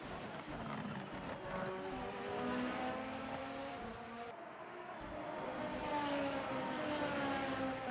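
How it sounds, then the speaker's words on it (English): Formula race cars in Assetto Corsa, the 2020 Super Formula at Autopolis, drive by with high, whining engine notes that rise and fall through gear changes, several cars overlapping in a continuous, moderately loud drone. "But we've got the first few cars coming across the line then, Jamie."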